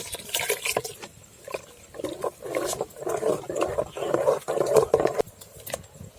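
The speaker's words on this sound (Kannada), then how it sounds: "ಸ್ವಲ್ಪ ನೀರು ಹಾಕ್ತಿದ್ದೀನಿ." Water poured into a simmering ground masala of tomato and onion for a pathrode curry, a bubbling, gurgling liquid sound that rises and falls in uneven surges, fairly close and without speech.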